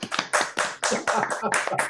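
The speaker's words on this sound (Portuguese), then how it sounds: "Abram os microfones e aí a gente aplaude." Participants in an online meeting clap with their microphones open, producing choppy, overlapping bursts of close applause that cut in and out unevenly.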